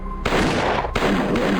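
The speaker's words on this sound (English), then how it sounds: "I heard gunfire echoing through the prison." Loud bursts of gunfire in a zombie prison video game, with a sharp onset and a second blast that echoes and roars on without pause, sustained and dense.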